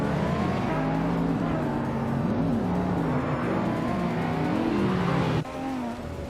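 Racing-game cars including a 1995 Ferrari F50 roar steadily close by, engine pitch rising and falling through gear changes and corners, with overlapping engines and a brief drop in level near the end.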